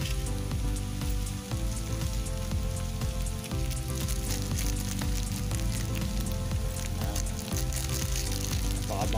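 Kadingga goat meat sizzles steadily in a pan with crushed pepper added, a dense, constant hiss and crackle like rain on a surface, with a faint tonal hum beneath it throughout.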